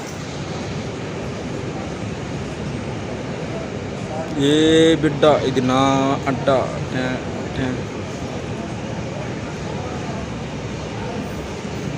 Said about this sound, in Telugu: అందుకుంటే స్టేషన్లోనే స్లోగా వెళ్తుంది ట్రైన్.